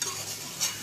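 Chicken pieces, about 500 grams, being stirred and fried in a spiced masala, giving a steady close sizzle with a soft scraping stir and a brief louder swell near the end.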